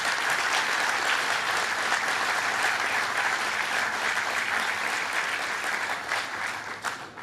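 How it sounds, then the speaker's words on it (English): Audience applause at the groundbreaking ceremony for 3 Hudson Boulevard in New York, a dense, steady round of clapping from a large crowd that holds for several seconds and starts to thin near the end. "let's give them all another round of applause"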